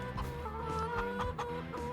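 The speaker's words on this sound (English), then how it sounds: "look at our new chickens, our new little chicks" Chickens and chicks on a farm in the Farming Simulator 25 video game cluck continuously over a steady hum of game music and ambience. The clucking stays moderately loud throughout.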